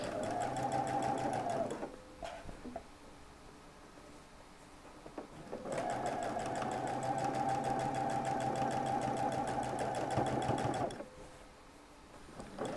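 A sewing machine runs in two long bursts of steady stitching along the edge of folded fabric, separated by a brief pause with faint handling sounds. The motor whirs loudly and continuously, close by.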